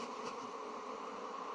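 Honey bees hum steadily around an open hive that has a Varroa destructor mite infestation. The buzzing is a dense, continuous drone from close by, with no speech.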